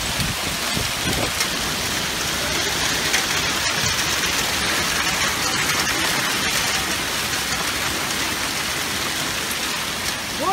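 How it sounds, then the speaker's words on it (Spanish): Heavy rain from a wet microburst in North Carolina roars as a dense, constant downpour that hammers surfaces loudly and without a break, with a faint engine hum underneath. "Las húmedas vienen acompañadas de lluvia, como esta filmada en Carolina del Norte, Estados Unidos."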